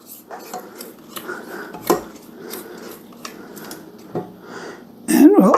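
A spatula scrapes down the sides of a stand mixer bowl of Cinnabon cinnamon roll cake batter, giving scattered clinks and scrapes that end in a louder burst of metal-on-bowl clatter.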